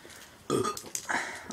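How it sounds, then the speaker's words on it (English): A single loud, close burp follows a gulped strawberry milkshake, rough and croaky, lasting about a second in two rising pushes. "Oh, that wasn't even an impressive burp."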